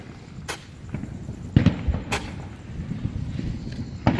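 Fireworks shooting fireballs at a 4th of July gathering, heard as several sharp pops and bursts at irregular intervals over a busy outdoor background.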